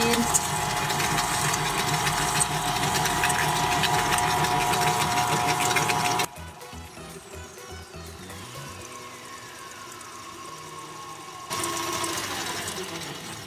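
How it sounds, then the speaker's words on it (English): An electric mixer blends egg yolks and sugar on low speed for homemade ice cream, its motor whirring steadily, cutting out briefly midway, then whirring again, with some talking. "But first we wanna get the egg yolks and the sugar completely blended together. So we're gonna start on a low speed."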